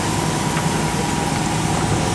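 Mini speedboat with a 320 engine running, a steady loud droning hum with a constant buzzy tone and no breaks, heard close up over a short stretch.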